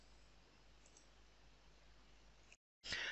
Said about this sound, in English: Right click and I unzip it.